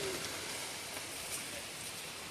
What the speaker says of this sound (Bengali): মারাত্মক পরিমাণে বৃষ্টি হচ্ছে।